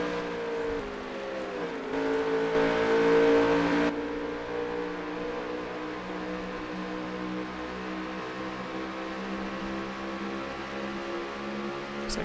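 Race cars in NASCAR Heat 5 lapping Watkins Glen, a steady whining engine drone with shifting revs and a louder surge early on as a car passes, no voices.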